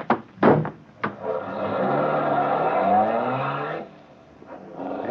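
Car engine starting and pulling away as a radio drama sound effect, with a couple of sharp door-like knocks first, then a steady engine drone that fades out.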